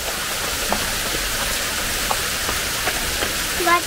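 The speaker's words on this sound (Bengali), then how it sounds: "এই হচ্ছে ঝর্ণা।" A forest waterfall in the Buxa–Jayanti area of the Dooars, its water falling in a steady, even broadband rush that sounds like heavy rain, with a few faint clicks and a brief voice near the end.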